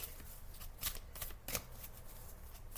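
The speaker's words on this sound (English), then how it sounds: "I'm going to shuffle." Tarot cards being shuffled in a few quick riffling bursts, close and fairly quiet, with no talking.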